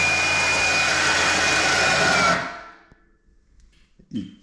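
An electric winch on a Defender HD11 whirs loudly with a steady motor whine as it reels the hook in, then stops abruptly. A brief soft knock and a short rustle follow in the quiet.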